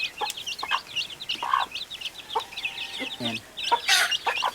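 Native chickens cluck and young chicks peep in a backyard pen, with short repeated clucks and high chirps scattered close by and a brief spoken word in between.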